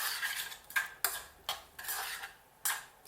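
Stirring a buckwheat and vegetable curry in a pot, a utensil scraping in repeated swishing strokes with sharp clinks against the metal sides, close and fairly quiet.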